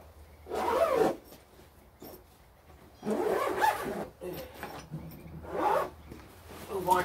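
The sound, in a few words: zipping up a gun bag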